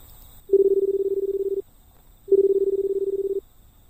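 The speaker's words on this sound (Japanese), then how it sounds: "だから自分の携帯に、あえてかけてみる。" A payphone in a phone-booth escape video game calls a smartphone, and the ringback tone comes through twice as an even buzzing ring about a second long, separated by a pause, clear and alone.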